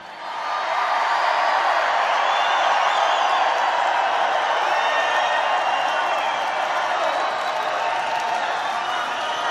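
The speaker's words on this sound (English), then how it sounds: "Thank you, everybody. What a crowd." A large crowd at a Donald Trump election rally in Reno, Nevada cheers and claps continuously, a dense roaring wall of noise that holds loud and steady throughout.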